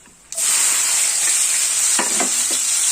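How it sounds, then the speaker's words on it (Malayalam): A crushed shallot, dried chili, garlic and coconut-piece mixture drops into hot oil for a green bean and plantain stir-fry, bursting into a loud, steady sizzle with a few spoon scrapes near the end. "ഈ മിശ്രിതം ഇതിനകത്തോട്ടിട്ട് നമുക്ക് വഴറ്റിയെടുക്കാം"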